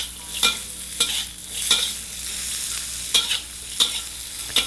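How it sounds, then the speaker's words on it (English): Carrots stir-fry in hot sesame oil with asafoetida, a steady close sizzle broken by regular scraping stirs about once a second, with no talking over it. "Let's stir fry our little carrots."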